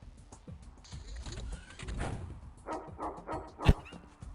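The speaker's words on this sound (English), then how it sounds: "He's lit on fire and he still bothers to bark in the end." A dog barks inside the video game X-piratez while on fire, its bark rising as a sharp loud burst near the end, after softer whimpering yips and background game sounds.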